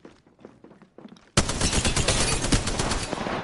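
Gunfire in Apex Legends, as the character Bangalore fires: a few quieter shots, then from about 1.4 seconds a loud, dense, continuous burst of rapid automatic fire with no voices over it.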